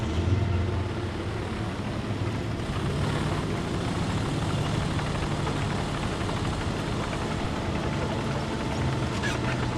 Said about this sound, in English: That's the engine.